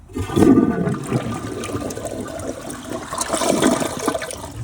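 A La Mosa Sahara high-efficiency toilet flushes nearby, a loud rushing surge of water that swells, dips slightly and swells again before settling.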